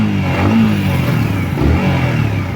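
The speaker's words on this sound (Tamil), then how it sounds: "இதோட எக்ஸாஸ்ட் நோட்டு இப்போ கேட்டுட்டு வாங்க." A 2024 Yamaha MT-15 V2 motorcycle revs through its exhaust, a steady mid-pitched engine drone rising and falling slightly, fairly close and alone without talk.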